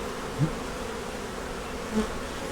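Honeybees hum in a steady, dense drone at an open hive that is making honey, with a couple of individual bees buzzing briefly louder as they pass close by.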